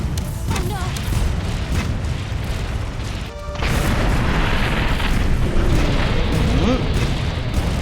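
Zorah Magdaros, the colossal lava-covered elder dragon in Monster Hunter World: Iceborne, blasts the defensive barrier: a deep rumbling boom rises partway through, then sustained explosive roar and crackling debris fill the rest, loud and dense, with game music underneath.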